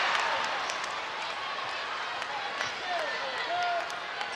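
Basketball arena crowd at a Georgia vs LSU women's college game, a broad sustained roar that swells and sags after a missed layup rolls off the rim, with sneaker squeaks and a commentator's voice over it.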